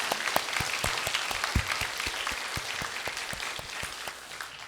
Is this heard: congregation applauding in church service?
yes